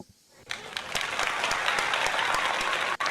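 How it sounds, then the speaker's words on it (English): Applause sound effect during a live baseball play-by-play stream of the Phillies at the Cubs, a dense burst of clapping that rises after a quiet start and continues loud and steady. "Rounds of applause in the chat."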